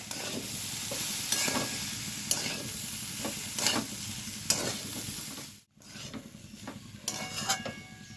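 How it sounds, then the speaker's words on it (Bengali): Ground spices being stirred and mixed together in a pan while making jhal bhaja puli pitha, a steady scraping and sizzling with a few sharper clinks of the spoon, close and moderately loud, with one brief silent gap. "এবার আমি গুঁড়ো মশলাগুলো একসাথে ভালোভাবে মিক্স করে নেব।"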